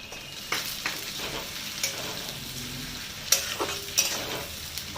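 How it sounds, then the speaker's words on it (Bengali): Onions browning in a pan with chopped tomato just added, stirred steadily with a spatula. A soft, continuous sizzle runs underneath, with scraping strokes coming at irregular intervals and a few sharper clinks. "দিয়ে দিচ্ছি টমেটো কুচি,"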